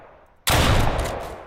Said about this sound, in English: Here I am saying how good shotguns are at a distance, and I miss every shot.